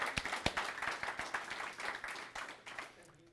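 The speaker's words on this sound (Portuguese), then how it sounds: "Uma salva de palmas para esses homens." A church congregation applauding a group of men, a few seconds of brisk, uneven clapping that is moderately close and fades out toward the end.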